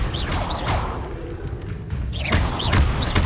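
A Confringo fire spell from Hogwarts Legacy blasts with whooshing, booming bursts, one early and a louder flurry near the end, set against a rumbling game ambience.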